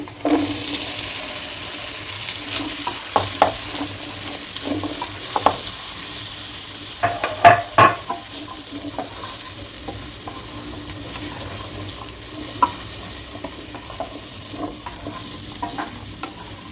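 Capsicum pieces frying in a pan with turmeric and salt, a continuous sizzle broken by repeated clacks and scrapes of a spatula stirring, louder bursts midway, no one speaking.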